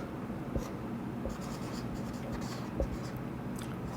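Chalk or marker scratching across a board during a physics lecture on the force between two charges, a steady soft scraping with a few sharp taps, close and faint, with no speech over it.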